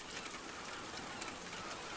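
Steady rain falls evenly as a constant, close, full-band hiss with no breaks or talk, in a mountain-ridge setting like Machu Picchu.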